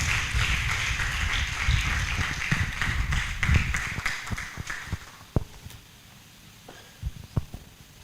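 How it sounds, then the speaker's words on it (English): Applause at a medical laboratory science induction ceremony, a crowd clapping fairly loudly for about five seconds before thinning out to a few scattered late claps. "A round of applause as he comes forward"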